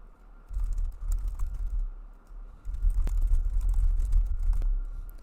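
Fingers type a command on a computer keyboard in quick irregular bursts of close, soft clicks, with a short pause partway through and a few sharper key taps standing out.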